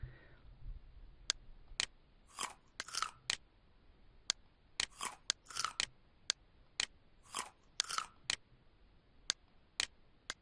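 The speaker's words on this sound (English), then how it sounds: "I hope you were able to hear audio that is similar to the sound of a bite from an apple" An apple-bite sound effect from an interactive spelling game plays as a series of sharp, crisp crunches, some single and some in quick pairs, spaced across a quiet background.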